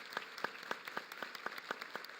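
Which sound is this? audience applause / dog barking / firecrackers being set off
audience applause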